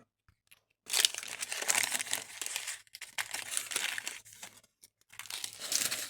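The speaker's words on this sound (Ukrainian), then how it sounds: "І це в нас ці пакетики, які дуже погано відкриваються." Plastic iPad sticker packet crinkles and tears open up close, in several rustling bursts separated by brief pauses.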